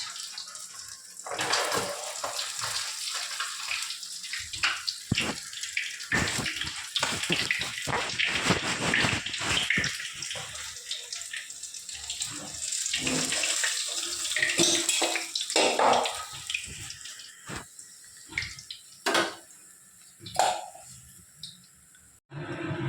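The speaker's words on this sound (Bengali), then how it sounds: "এখন এই যে ক্যাপসিকাম আর পেঁয়াজগুলো যে ধুয়ে নিচ্ছি" Capsicum and onions rinsed under a running kitchen tap, a continuous splashing gush of water with irregular spatters as the vegetables are handled, close and steady throughout.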